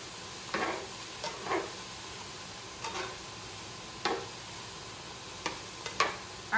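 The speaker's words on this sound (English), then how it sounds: "Our onions are starting to get a little more translucent, and we're getting that garlic incorporated with everything around it" Onions and garlic stir-fry in a pan for a tuna dish: a faint, steady sizzle broken by half a dozen brief scraping stirs at irregular intervals, with no voices.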